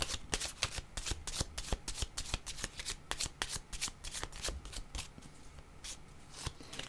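Playing cards shuffled for a card reading, with a quick series of crisp riffling flicks and soft slaps repeating close by, with no talk over them.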